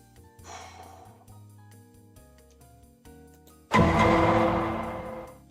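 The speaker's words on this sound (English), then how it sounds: "I know what that sound is from. It's Special Victim Unit." The Law & Order: Special Victims Unit sound effect hits as one sudden loud, heavy booming accent that decays over about two seconds, following quieter background music.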